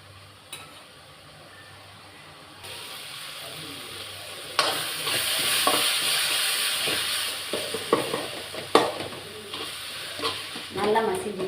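Tomatoes for thakkali kootu or thokku are mashed and stirred in a hot pan, giving a soft sizzle and hiss with irregular scraping and squelching strokes of the spoon that grow busier partway through.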